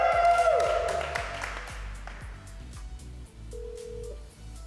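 A telephone call is dialed before a studio audience, with dialing tones and a single short tone against a steady rhythmic thumping background and faint applause-like noise.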